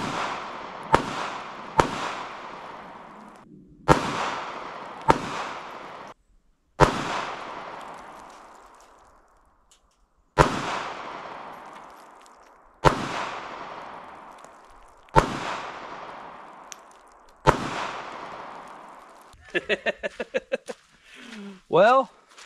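AMT Backup semi-automatic pistol firing at onions outdoors, about ten sharp loud reports spaced a second or two apart, each with a decaying echo, followed by a short burst of rustling handling noise at the end.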